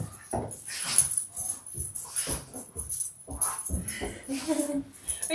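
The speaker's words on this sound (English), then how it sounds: "Oh, look at this puppy dog." A puppy whimpers and yips softly in short repeated bursts, close by in an indoor leather workshop, with faint jangling and quiet background noise.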